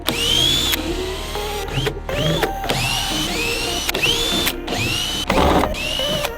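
A power drill unscrews screws from a sub box on a BMX bike, sounding as repeated short whirring bursts with rising pitch, separated by brief pauses, close and loud.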